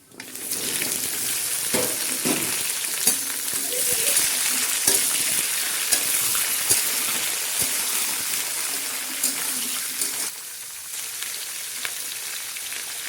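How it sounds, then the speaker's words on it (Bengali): Vegetables hit hot oil in a wok with bay leaf and chilli, giving a steady loud sizzle and crackle that runs throughout, with occasional stirring scrapes and a brief dip near the end. "এবার আমি সবজিগুলো এর মধ্যে দিয়ে দেবো"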